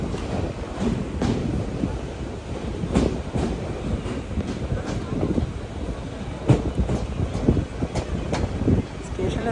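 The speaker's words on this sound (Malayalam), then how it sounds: "ഈ വണ്ടി എടുത്തു." Palaruvi Express train running, heard from inside a sleeper class coach: a steady rumbling roll with rhythmic wheel clacks over the rails, moderately loud and continuous, with some faint voices in the carriage.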